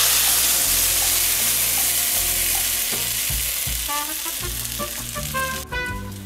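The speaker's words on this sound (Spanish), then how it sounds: "Reduce el fuego a medio y vierte sobre la mezcla de los huevos en la sartén." Egg mixture poured into a hot skillet over medium heat fries with a loud, steady crackling sizzle, broken by repeated clinks and scrapes of a utensil stirring in the pan.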